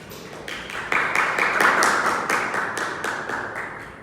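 A class claps together in a loose, rhythmic pattern, building slightly louder midway and then easing off, with distinct individual claps audible in the room.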